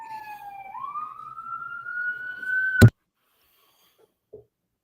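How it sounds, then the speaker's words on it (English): Wailing police siren sweeping upward in pitch for about three seconds, loud and close, then cutting off abruptly, leaving near silence apart from a faint knock. "I'm just gonna let these sirens pass"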